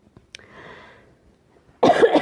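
A woman coughs in a short burst of harsh, loud coughs near the end, after a few faint breaths and a quiet stretch.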